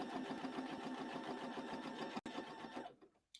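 Sewing machine stitching a scrappy quilt block, a steady rapid mechanical whirr running continuously with a brief break near the end before trailing off.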